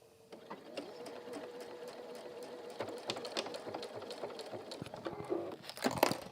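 A sewing machine stitches water-repellent fabric lining with a fast, even mechanical rattle, fairly quiet and close, with small clicks and handling noises near the end.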